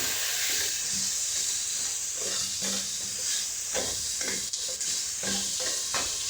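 Potato curry fries in a pan with a steady hiss and sizzle, while a spoon stirs and scrapes at it in irregular strokes throughout, heard up close with no talking.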